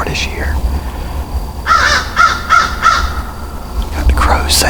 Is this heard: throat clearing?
no